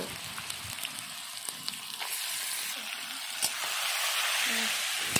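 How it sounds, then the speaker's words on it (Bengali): Marinated duck meat hitting fried onions in a kadai over a wood-fired clay stove, a loud, continuous sizzle with scattered pops and spatters, swelling slightly toward the end. "পেঁয়াজটা ভাজা হয়ে গেল, দিয়ে দেব মাখানো মাংস।"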